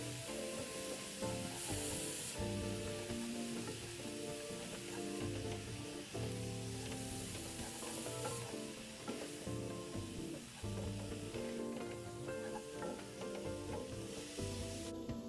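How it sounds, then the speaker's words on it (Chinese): Green papaya filling seasoned with salt, sugar, oyster sauce and five-spice is stir-fried in a pan, giving a continuous sizzle with rhythmic scraping and tossing strokes, close and steady, with no talking. "接着拌炒均匀。"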